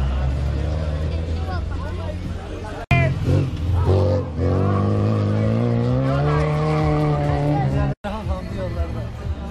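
Classic car in a Güzelyurt, Cyprus rally skidding past with tires squealing and engine revving in rising and falling tones, loud and close, amid crowd chatter and voices.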